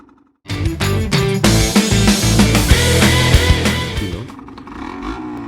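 A Yamaha TDR 125 two-stroke motorcycle in neutral starts loud and close, its buzzing engine idling steadily for several seconds before easing off near the end.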